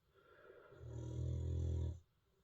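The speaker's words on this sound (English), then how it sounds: "That's Lexi, you can hear snoring by the way." A dog named Lexi snoring close by, one drawn-out rumbling snore that swells and then cuts off sharply, with quiet room tone on either side.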